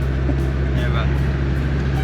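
A vehicle drives a sand track among the Kgalagadi dunes with its tyres let down, its engine a steady, loud, unbroken rumble close by.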